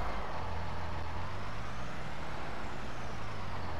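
A truck engine in Farming Simulator drones steadily at close range, a constant low rumble with a slowly shifting pitch and no voices.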